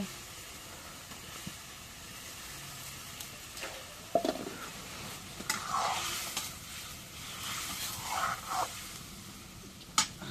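Fish goes into a pan of sizzling spice paste, giving a soft steady hiss with louder bursts of sizzling and a few sharp knocks, moderately close and without talk.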